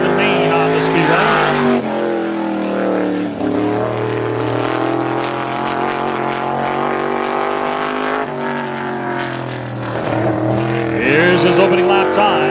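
A super late model race car runs a time-trial lap at a speedway, its engine roaring loud and sustained with pitch sweeps as it passes. An announcer talks over it.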